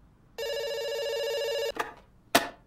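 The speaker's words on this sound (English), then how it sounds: "It's ringing." Bright electronic telephone ring in The Stanley Parable's Dr. Langeskov, The Tiger, and The Terribly Cursed Emerald: one sustained buzzing ring lasting over a second, then two sharp clicks, the last louder, as the line drops.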